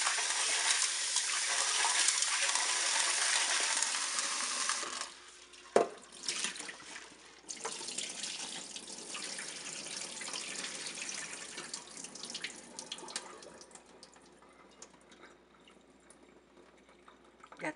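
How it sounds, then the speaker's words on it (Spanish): Tap water runs into a sink while kidney beans are washed, a steady splashing gush that breaks off after about five seconds and gives way to quieter dripping and handling of wet beans. "Ya después que tenemos la lata y media hecha, vamos a lavarlos."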